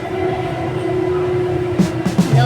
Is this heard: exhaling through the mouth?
no